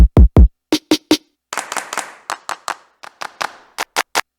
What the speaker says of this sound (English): I added a number of different claps